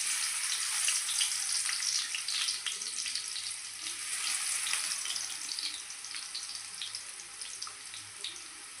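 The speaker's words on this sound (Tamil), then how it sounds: "எண்ணெய் சூடாயிடுச்சு. சூடானதுனால நம்ம வந்து பூண்டு போடுறோம்." Garlic frying in hot sesame oil in a pan, a steady close hiss of fine crackles and sputters that slowly softens, with no voices.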